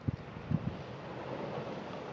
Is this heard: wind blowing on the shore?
yes